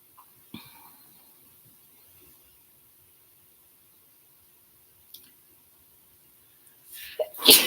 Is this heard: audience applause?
no